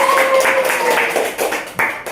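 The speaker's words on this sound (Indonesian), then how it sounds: "Tepuk tangan dulu untuk kita semua." Children and teachers in an Indonesian classroom clap together in a quick, regular rhythm of loud, near claps, with a voice speaking over the beat.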